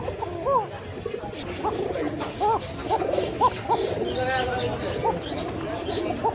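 Koka pigeons, an uncommon fancy breed, coo repeatedly in a rhythmic series of close calls, with people talking underneath and a busy pigeon market in the background.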